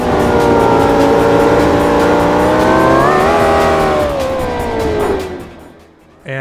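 A 2002 Chevrolet Corvette Z06 C5 engine in the Forza Horizon 5 racing game revs loudly and steadily, its pitch climbing then sliding down before cutting off near the end.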